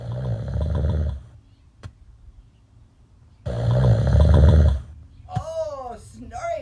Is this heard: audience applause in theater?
no